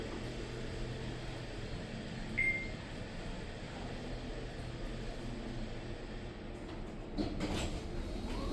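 A new Schindler elevator at Tampa International Airport opens its doors over a steady mechanical hum, with a short chime and a soft sliding rumble near the end.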